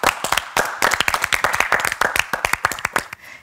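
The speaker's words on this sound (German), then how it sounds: "So, einmal fetten Applaus." A studio audience claps for a guest, a short burst of quick, crisp, closely spaced handclaps that stays fairly loud and even throughout with no talking over it.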